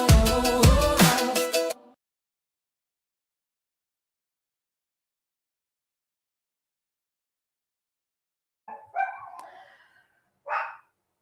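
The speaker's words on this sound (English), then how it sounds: "He's still barking." A dog barks sharply several times in quick succession, loud and close, followed by long silence and then a couple of fainter yips and whimpers.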